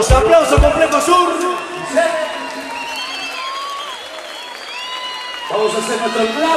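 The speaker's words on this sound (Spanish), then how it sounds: "Los aplausos Complejo Sur." Concert crowd at Complejo Sur applauding and cheering at a cumbia show, with whoops and a music-like tonal passage over the middle; noise stays loud and dense throughout, rising again toward the end.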